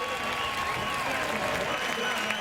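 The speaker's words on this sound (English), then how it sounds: "look at Jack Beckman and listen to the crowd" A large crowd in the stands at the 2013 NHRA Traxxas Nitro Shootout drag racing finals roars and applauds in a steady, dense wash of cheering that holds loud throughout, with announcer talk mixed in.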